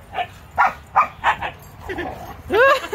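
Husky dogs barking and yipping while rough-housing with a large wolfdog, a series of close, loud barks at roughly half-second intervals followed by whiny, rising yelps.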